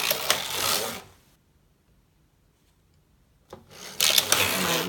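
Needles clicking and rubbing while knitting a sock, in two busy bursts of soft wooden-sounding taps separated by a stretch of near silence, close and fairly loud.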